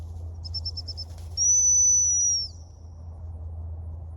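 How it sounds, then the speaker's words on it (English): A dog training stop whistle sounds as a quick run of short chirpy pips, then one long, steady, shrill blast about a second long, close and loud over a low steady hum. "As he's coming to me, I'm going to blow the whistle"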